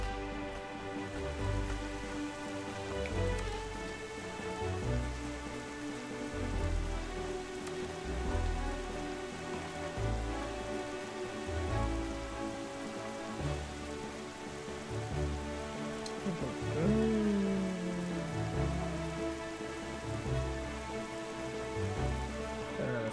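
Rain falls steadily in The Legend of Zelda: Wind Waker as a continuous hiss, layered under the game's looping melodic music with a pulsing low rhythm throughout.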